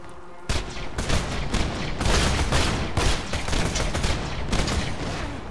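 Dense, relentless gunfire from a Borderlands 2 firefight, with loud overlapping shots and bursts packed together and scarcely a pause across the whole stretch.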